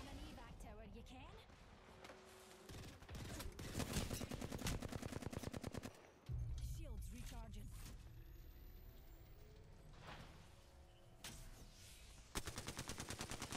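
Rapid automatic gunfire in the Apex Legends video game during an April Fools event match, repeated bursts of close shots in long rattling strings broken by short pauses, with players talking over the shooting.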